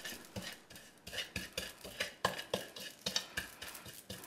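Garlic being mashed with coarse kosher salt in a bowl, a rhythmic series of close scraping and tapping strokes of a utensil, roughly two or three per second, with no talking.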